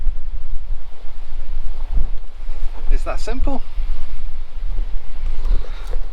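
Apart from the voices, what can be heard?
strong wind blowing at the coast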